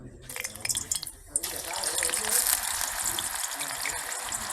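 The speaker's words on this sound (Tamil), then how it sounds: "எண்ணெய் நல்லா கொதிச்சுட்டு இப்போ நான் ஒரு கொஞ்சம் போட போகிறேன்" Raw banana slices dropped into hot, boiling frying oil, making a sudden loud gushing sizzle that starts after a second and holds steady, with a person talking in the background.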